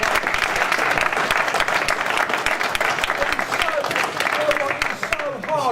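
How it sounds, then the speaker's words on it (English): An audience at a mixed martial arts press conference claps loudly in a dense, sustained burst of applause nearby, with a voice speaking over it, before it tapers off at the end. "A big round of applause for Chris straight away."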